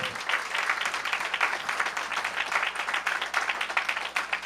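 Audience applause at a campus ribbon-cutting ceremony, a continuous patter of many hands clapping at moderate distance, steady and fairly loud for the whole stretch.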